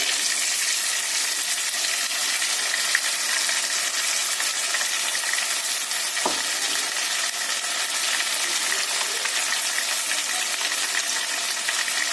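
Tomato and ginger-garlic paste fry in a hot pan with a loud, steady, dense sizzle that fills the whole stretch, close up, with a brief clink of a utensil partway through and no talking.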